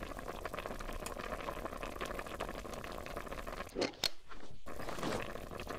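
Water bottles and potatoes boiling in the zombie survival game Zompiercer, a continuous quiet bubbling hiss broken near the end by a couple of brief clicks and a short gap before the simmer resumes.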